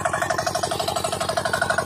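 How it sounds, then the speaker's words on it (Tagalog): A fishing boat's motor runs with a steady, throbbing pulse, loud and continuous throughout, with no voices heard over it. "May makina pa rito."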